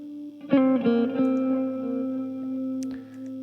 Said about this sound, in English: So we've got this guitar lead.